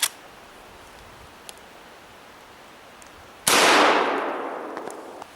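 A Henry Big Boy lever-action rifle in .44 Magnum fires a single loud, close blast that rolls off into a long, echoing roar outdoors, with a faint click earlier and a sharp transient right at the start.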